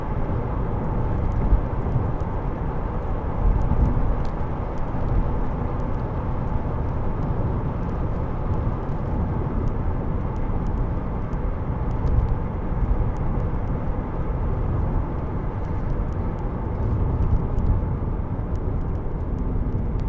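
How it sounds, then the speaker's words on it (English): Steady low road and engine rumble inside a 2003 Alfa Romeo GTV 2.0 Twin Spark 16v cruising at 70 mph, an even broadband drone with no speech. "We're just sat here at 70 miles an hour, and"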